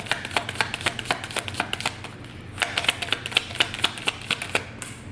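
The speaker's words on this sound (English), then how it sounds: "all my cards are falling on the floor" Tarot cards spilling onto the floor, a rapid series of sharp light slaps and clicks in quick irregular bursts, close and fairly loud, with a short lull midway.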